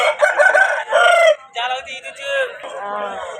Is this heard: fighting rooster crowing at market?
yes